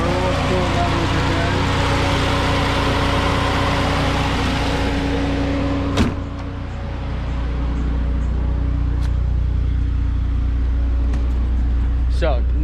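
A Saab 9-3 engine runs steadily after a cold early-morning start, with a constant close idle drone and faint tones on top; a brief knock sounds at mid-point.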